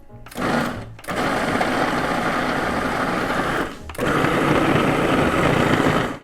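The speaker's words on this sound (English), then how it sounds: "I'm just gonna get this pulsed up first and then do that." Food processor pulsing kale pesto, two loud motor bursts of whirring and chopping, a short one followed by a long sustained run, with a brief pause between them.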